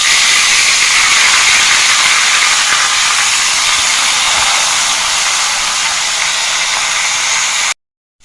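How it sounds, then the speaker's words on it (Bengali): Fish heads fry in hot mustard oil, a loud, dense, steady sizzling hiss close to the pan that cuts off abruptly near the end. "তেলটা গরম হয়ে গেছে, দিয়ে মাছের মাথাগুলো ভেজে নিচ্ছি।"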